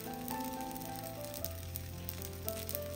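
A steady, soft sizzle of parotta frying on an oiled tawa runs throughout, with faint clinks and a low hum from the kitchen, and no voices.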